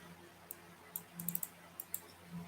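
Quiet, close keystrokes on a computer keyboard, a sparse handful of light clicks tapped out irregularly over a faint room hum.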